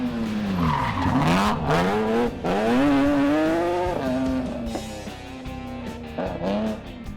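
A Mitsubishi Lancer Evo 10 rally car at the Zuid-Limburg Rally 2019, loud and close, its engine revving up and down in rising and falling sweeps with hard gear changes and no voices.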